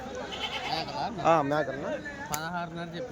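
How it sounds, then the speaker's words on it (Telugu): Goats bleat with wavering cries at a busy weekly goat and buck market in Kadiri, close by and mixed with people talking and crowd chatter. "అయితే ఉన్నాయండి మేకలు"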